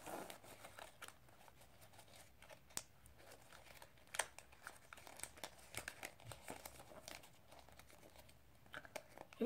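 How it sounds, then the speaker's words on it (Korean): Paper being folded into an origami praying mantis: soft, close crinkling and creasing with scattered sharp crackles and light taps, quiet and irregular throughout. "그 다음에 반대쪽도 똑같이 여기를 아예 펴서 이렇게 접어줍니다"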